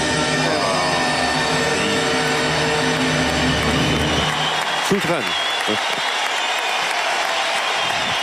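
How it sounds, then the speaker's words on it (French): Dense applause from a large indoor arena crowd at Bercy during a show-jumping event, loud and sustained all around, with someone commenting over it. "ça applaudit de tous les côtés"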